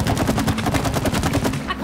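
Gunshots from the co-op game It Takes Two rattle out as a rapid, even stream of loud automatic fire, about a dozen quick pulses that stop abruptly at the end.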